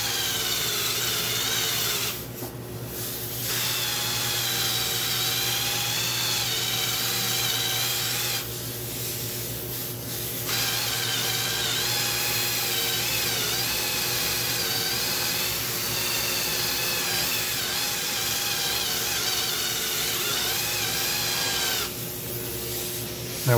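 Machine polisher running a black foam pad with polish over scratched metal, a steady whirring hum that holds for most of the stretch, dipping briefly three times as the pad lifts or pauses; no talking.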